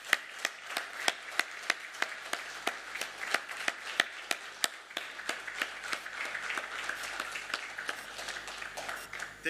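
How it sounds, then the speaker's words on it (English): A conference hall audience at the Zimbabwe Annual Diaspora Conference gives the professor a standing ovation, with sustained rhythmic clapping, sharp distinct claps over a dense steady bed of applause throughout. "allow me to invite everybody to stand up and clap hands for the professor"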